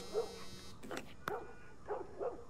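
A dog in The Last of Us video game barks a few times at close range, sharp separate woofs with brief yips between them and a faint tone in the background.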